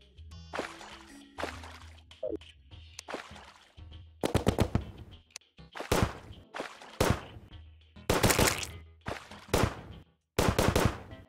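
Rapid gunshots from the Venus Magnum, a high-velocity bullet gun in Terraria, fired in loud, sharp bursts and repeated volleys with brief gaps between them, no voices.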